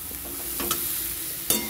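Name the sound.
food frying and being stirred in a pan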